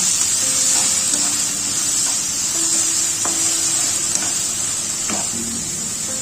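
Spice mixture lightly frying in a pan for a banana-blossom mochar ghonto, a steady close sizzle and hiss with faint occasional stirring scrapes, no voices.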